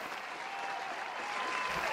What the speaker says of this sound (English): Let me hit the round of applause like you asked.